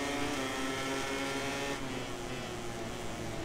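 A MotoGP 18 racing game motorcycle engine drones steadily at high revs during a Catalunya race, a constant buzzing whine throughout at moderate level.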